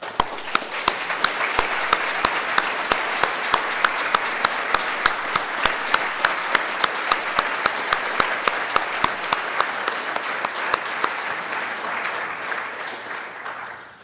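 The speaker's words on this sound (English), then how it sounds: "maybe we could have a round of applause" Sustained audience applause at a scientific plenary session for a project member who has stood up, many hands clapping steadily and densely for about fourteen seconds at fairly close range before tapering at the end.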